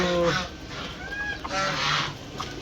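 Ducks and chickens calling from nearby on a rooftop during an afternoon heatwave, panting, a few honking, nasal cries scattered over a noisy outdoor background.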